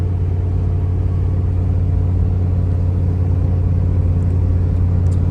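A vehicle cruises along a road on a sunny day, a steady low engine rumble and road drone heard from inside the cabin, constant and fairly loud with no talk.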